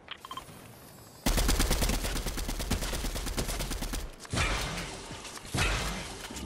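Rapid automatic gunfire in the video game Fortnite, loud bursts of repeated shots with brief pauses between volleys, close and dominant.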